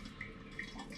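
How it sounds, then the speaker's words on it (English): Water squeezed from brewing grain pressed into a sieve with the back of a plastic spoon while making an all-grain strong ale, giving faint, close trickling and dripping with a couple of small splashy accents. "using the back of a plastic spoon, I'm going to press the grain into the sieve to squeeze as much of the water out as possible"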